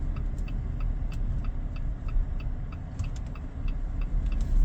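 A car driving along produces a steady low engine and road rumble, with a faint regular ticking, likely an indicator, running over it throughout.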